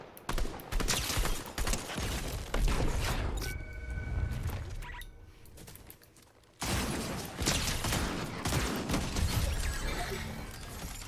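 Rapid gunfire in Fortnite's Zero Build mode rattles through a long stretch of repeated shots and mechanical clatter, loud and close, pausing briefly in the middle before another dense burst of firing resumes, with no voice over it.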